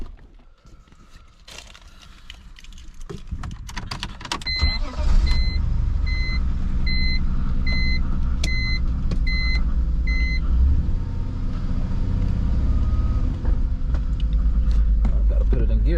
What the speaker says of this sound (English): Start it up. It's misfiring, has pretty high miles, but no worries.